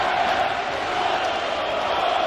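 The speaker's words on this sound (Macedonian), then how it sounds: "Ова недостасуваше публика. Или барем гласот на публиката." Spectators at a basketball game between KK Kumanovo and KK Levski roar in a sustained, broad crowd swell that holds steady at a distance for a couple of seconds.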